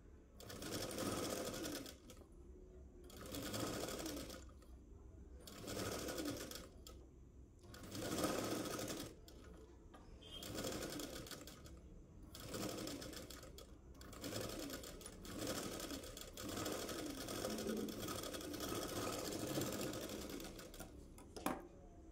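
A sewing machine stitches an umbrella dress collar piece in repeated bursts of rapid whirring, each a second or two long and separated by short pauses, close and fairly quiet.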